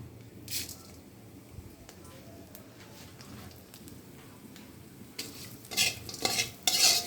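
Whole spices such as fennel and coriander seeds are stir-fried in a pan for a vegetarian chhana curry, with a faint sizzle under intermittent scraping and stirring clatter that grows louder toward the end.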